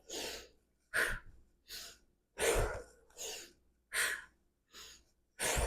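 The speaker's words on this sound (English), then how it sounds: "Inhale, exhale, inhale," Heavy rhythmic breathing during an upper-body and core workout, about nine sharp, audible breaths alternating inhale and exhale at a steady pace, close and clear.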